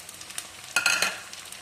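Ginger, garlic and curry leaves fry in hot oil for a pickle, making a soft steady sizzle. A brighter, louder burst of crackling comes near the middle and then fades back to a gentle hiss.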